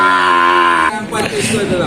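A heifer being sold at an auction outside a mosque gives one loud, close, drawn-out moo that breaks off into a crowd of people talking.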